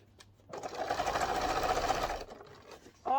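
A sewing machine runs in one steady burst of about two seconds, whirring fast and close as it stitches along the piping of a round boxed cushion, then stops and is followed by a short voice.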